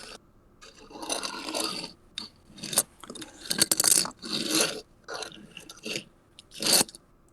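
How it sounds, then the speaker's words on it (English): Grinding gears of a fantasy forge, a gritty scraping and crunching that comes in repeated bursts with short pauses between, fairly close and alone with no talking. "grinding of the gears of the forge and everything."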